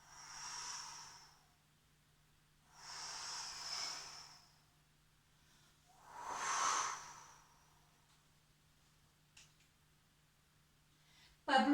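A voice imitates blowing wind in three soft, breathy whooshes, each swelling and fading with gaps between, alone and quiet, followed by faint clicks.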